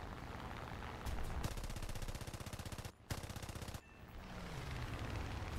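Rapid machine-gun bursts from aircraft in War Thunder, a fast rattling stream of shots close up that cuts out briefly, resumes, then gives way to engine drone.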